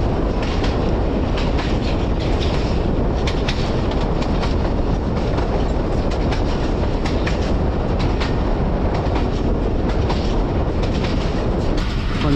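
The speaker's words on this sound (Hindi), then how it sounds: "ट्रेन अप्रोच बना रही है किला सूबा सिंह रेलवे स्टेशन।" The Sialkot Express rolls steadily along the rails as it nears a station, a dense, loud rumble with rapid clickety-clack from the wheels throughout, heard from on board with no voices.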